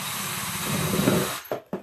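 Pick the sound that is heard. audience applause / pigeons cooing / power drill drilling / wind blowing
power drill drilling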